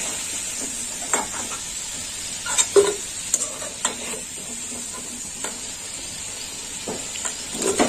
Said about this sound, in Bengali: আলু ভাজা হয়ে গেছে, এবার আলুগুলো তুলে নেব।